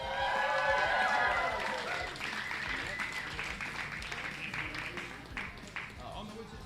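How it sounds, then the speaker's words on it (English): Applause and crowd noise for a bowling competitor at a tenpin event rise loudly at the start, then settle into steady clapping. Shouting and cheering voices ride over it throughout. "give him another round of applause"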